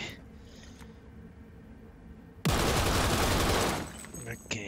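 Dense automatic gunfire from a gun in a video game, a loud sustained burst of rapid shots lasting over a second, preceded by quieter game ambience with voice nearby.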